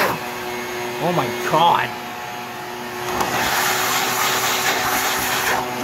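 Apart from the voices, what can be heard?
vacuum cleaner sucking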